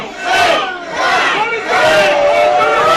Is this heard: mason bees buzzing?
no